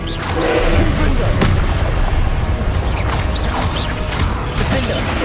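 Spell blasts and crackling magical impacts from the Hogwarts Legacy video game, including the Confringo fire spell, come as dense repeated bursts with mechanical clatter over a steady loud game soundscape.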